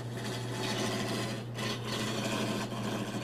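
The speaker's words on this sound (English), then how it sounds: "One of the most fun things is turning on the lathe" Wood turns on a lathe while being shaped into a part for a curving staircase, giving a continuous rasping, scraping hiss over a steady motor hum, with brief dips as the cut changes.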